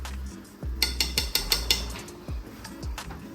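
Flour is stirred into gravy in a pan, heard as a quick run of metallic clinks and taps of a utensil against the pan, followed by a few slower knocks, with no talking.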